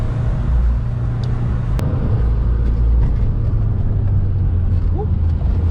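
Subaru WRX engine rumbling steadily while driving, with a low, continuous drone as it downshifts; engine noise fills the whole stretch with a brief knock partway through.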